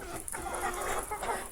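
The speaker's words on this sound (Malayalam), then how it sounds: "ഗ്രാമീണ കോഴിയാണ്." A free-ranging village hen about three and a half months old clucks softly and repeatedly at close range in a quiet yard, the short calls rising and falling with faint background hiss.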